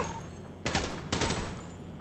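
Two short bursts of rapid gunfire crack out one after another, loud against a quiet electronic background, like shooting in a video game.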